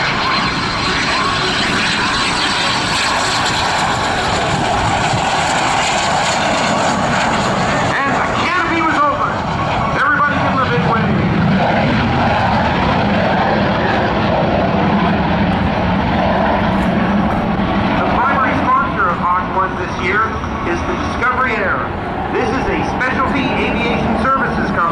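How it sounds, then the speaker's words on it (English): Canadian F-86 Sabre vintage jet flying at a military base airshow, with a loud continuous engine roar throughout, overlaid by an announcer talking over a PA system. "This Sabre is the first jet-powered aircraft in the Vintage Wings collection of aviation"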